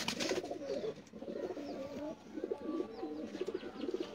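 Pet pigeons coo in repeated low, throaty rolling phrases, close by and fairly loud, with a few faint chirps in the background.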